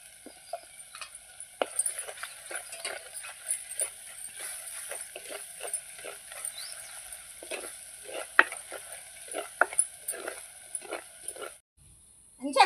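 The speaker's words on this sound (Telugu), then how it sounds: "అల్లం వెల్లిపాయ మంచిగా గోలింది." Ginger-garlic paste fries in a pan, giving a close, crackling sizzle while a spoon scrapes and stirs in irregular strokes, with a few sharp metallic knocks, before a brief pause near the end.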